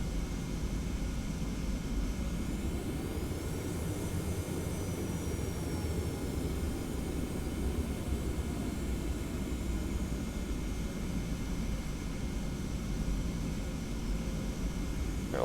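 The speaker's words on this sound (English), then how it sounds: "Taxiing blind, gotta love it." Airliner taxiing to a terminal in the Prepar3D flight simulator, a constant loud jet engine whine and broad hiss with a faint rising tone partway through, steady throughout, with no talk.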